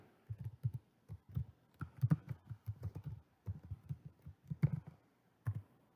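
Fingers tapping a search into a computer keyboard, quick clusters of close, soft clicks with short pauses between words, alone in a quiet room.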